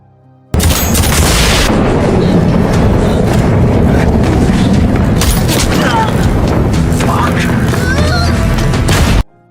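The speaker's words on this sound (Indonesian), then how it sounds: "Terjadilah aksi tembak-tembakan antara mereka." A film gunfight with rapid, dense gunfire and booming blasts, loud and continuous, with sharp cracks layered over a rumbling background for several seconds before cutting off.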